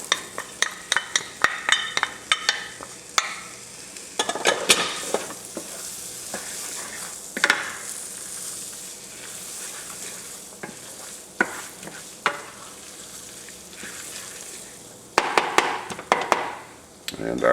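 Carrots and onions are stirred in a pot of Cajun crawfish fricassee, with a steady sizzle beneath and repeated sharp scraping and tapping strokes of the spoon against the pot, heaviest at the start and again near the end.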